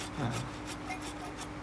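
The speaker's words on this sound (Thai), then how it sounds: "เลื่อยผ่าบากร่อง เพื่อที่จะไปใส่ริมนะครับ" A hand saw cuts a slot into the wooden handle of an old axe, its quiet rasping strokes repeating in a steady back-and-forth rhythm up close.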